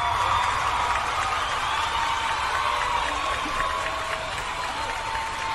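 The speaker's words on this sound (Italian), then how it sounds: "ti faccio l'applauso di default perché sì" Dense, continuous crowd applause holds at an even level throughout, a steady wash of many hands clapping with no clear individual claps standing out.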